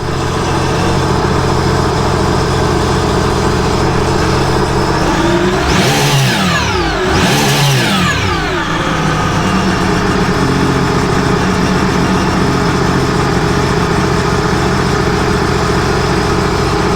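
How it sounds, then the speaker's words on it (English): A Sea-Doo RXP-X 260 jet ski engine runs on a hose for flushing, idling loud and steady, then revved twice in quick succession with rising and falling whine before settling back to idle. "We'll try to rev it up as well."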